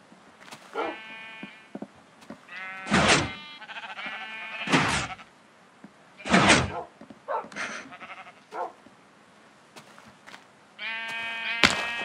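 Sheep in Minecraft bleat repeatedly in short, loud, uneven bursts, several animals calling one after another at close range, with soft footsteps between them.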